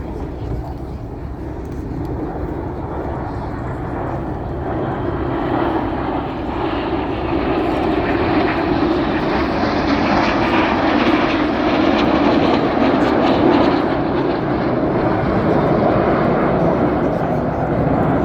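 Red Arrows jets roar through an air display at RIAT 2024, RAF Fairford, a loud sustained engine rush that swells and builds over many seconds, with a commentator talking over it.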